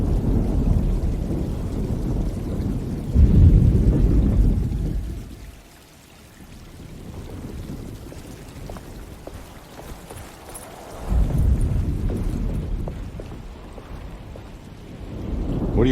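A thunderstorm in the game Alone in the Dark brings heavy rain hissing steadily, with deep rolling thunder swelling loud at the start and again later, easing to quieter rainfall in between, and no voices.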